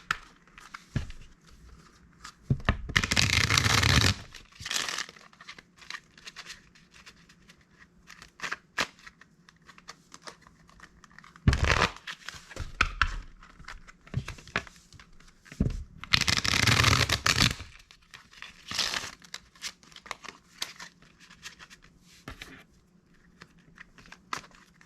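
Tarot cards shuffled in several loud riffling bursts, separated by quieter handling, tapping and sliding of the deck.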